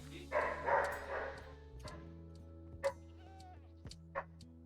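Minecraft sheep bleat in a few short, rising calls near the start, followed by sparse soft game clicks and pops against a quiet background.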